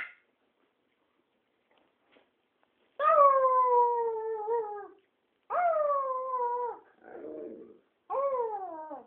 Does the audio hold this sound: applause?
no